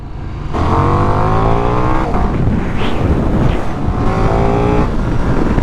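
A KTM 1390 Super Duke R motorcycle fitted with a Remus exhaust pulls away loudly, its engine note rising through revs and dropping with gear changes, close and heavy with wind buffeting the microphone.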